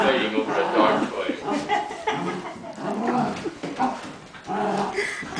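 Dogs whimper, whine and yip while fighting over a dog toy, their high, strained cries running continuously, close and fairly loud, mixed with some voices and chuckling.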